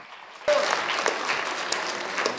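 An audience at a children's special education centre event in Secunderabad breaks into applause, a sudden onset of dense clapping from many hands that carries on steadily.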